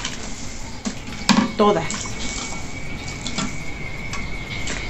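Pork trotters go into a clay pot of hot water, making a short clatter and splash partway through, followed by faint dripping and kitchen sounds while someone talks in Spanish.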